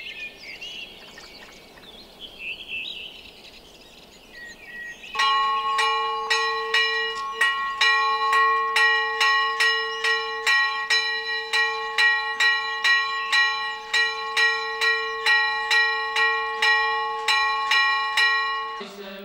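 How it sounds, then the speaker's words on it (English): The church bell at Pantanassa church in Mystras is rung by the priest for Vespers. After a few seconds of birdsong, steady loud strokes ring in an even, repeating rhythm with long ringing overtones. "Their priest rings the bell for Vespers."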